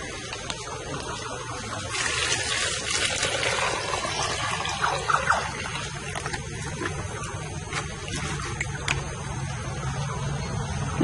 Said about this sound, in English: look at how much quicker the water is draining out from the tube in this situation.